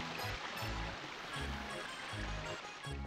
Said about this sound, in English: Water fountains for giants?